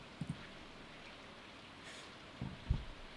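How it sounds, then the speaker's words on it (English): Steady rainfall in the farming video game Stardew Valley, a soft, even hiss of falling rain with a few faint low taps, no voices. "So, it's raining, which I would say is one of the best times to go fishing."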